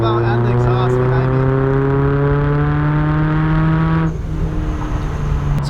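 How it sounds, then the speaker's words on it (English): A supercharged 2011 Toyota Tacoma work truck, heard from inside the cab, with a loud steady engine and exhaust drone that drops off sharply, the supercharger blow-off valve venting as the exhaust settles behind. "hearing that blow off out and the exhaust behind"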